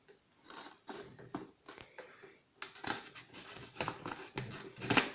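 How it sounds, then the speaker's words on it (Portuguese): Scissors snip through the plastic packaging of a Bigben official Tomb Raider PS3 controller, giving a series of close, crisp cuts and crinkles in uneven bursts with short pauses between. "agora vou tirar aqui com a tesoura do mal"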